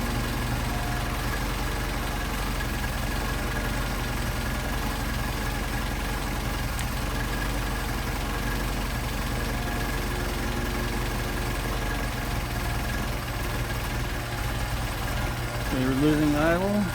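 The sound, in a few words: Mercedes 190SL engine idling on Solex 44PHH carburetors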